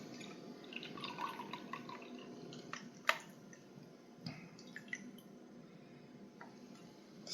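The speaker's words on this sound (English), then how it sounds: "Got our clams, let's kind of drain them out." Juice from canned clams drains and drips into a container while making New England clam chowder, giving soft, close trickles and irregular drips with a few sharper taps against glass or metal over a quiet kitchen hum.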